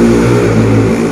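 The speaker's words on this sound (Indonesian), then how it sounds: "terdengar banget suara motor karena pas pinggir jalan" Motorbike engines passing along a roadside, a steady loud low rumble of traffic with no break across the short stretch.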